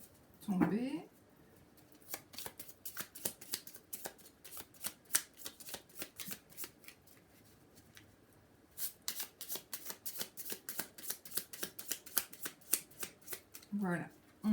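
A deck of tarot cards is shuffled and then cut by hand. Quick runs of crisp, papery flicks and taps come in clustered bursts with short pauses between them. A brief voice is heard near the start and again at the end.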